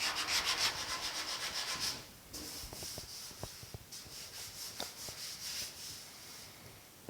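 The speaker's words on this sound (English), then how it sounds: "once I get this roughed down a little bit more with the 80 grit" Close, rhythmic strokes of 80-grit sandpaper on a block work the body lines of a 1950 Chevy five-window truck cab, first in a fast run of scratchy rasps, then slower, fainter scrapes after a brief pause.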